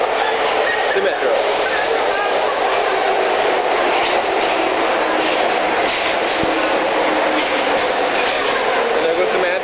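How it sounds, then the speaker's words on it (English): A metro train rolls into a subway station with a loud, continuous rumbling roar and rattling wheels, steady and close throughout, with a brief squeal in the middle. "And here comes the train."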